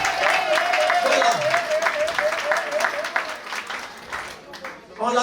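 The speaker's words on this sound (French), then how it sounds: "Veuillez applaudir pour les patriarches" Audience applause for the patriarchs at a university thesis presentation in Kinshasa, steady clapping from a crowd that fades toward the end, with a voice speaking over it.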